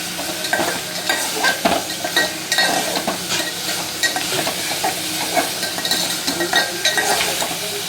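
Mango pieces frying in a pan as they are stirred: continuous loud sizzle with repeated scraping spoon strokes in an uneven rhythm, close and alone.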